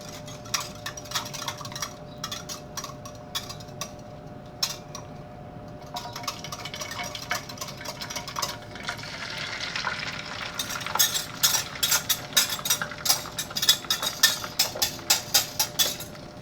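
Oil sizzling and crackling as an egg fries in a pan, intermittent spatters building in intensity, with occasional scraping of a utensil.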